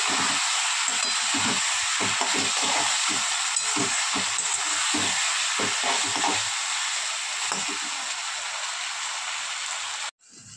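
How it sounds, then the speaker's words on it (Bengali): Tomato paste fries in a pan for a Bengali rohu fish curry, producing a dense, rain-like crackling sizzle with rapid popping. It stays loud and steady, then cuts off abruptly just before the end. "টমেটোটা দিয়ে একটুখানি ভাজা ভাজা করে নেব।"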